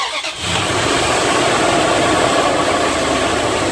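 A 2002-2007 Dodge Ram 1500 engine cranks and catches after a brief pause, then settles into a loud, steady running roar close by, with no talk.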